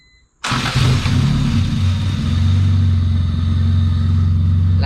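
A Honda Civic EF hatchback with a B-series engine cranks and fires up after a moment of silence, settling into a loud, steady idle close by.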